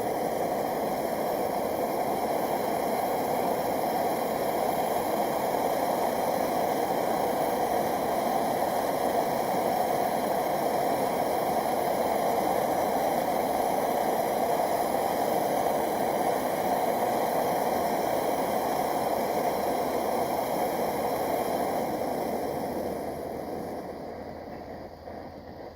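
A pot of water boils on a camp stove, a steady, dense rolling hiss held close and loud for the whole stretch, fading slightly at the very end.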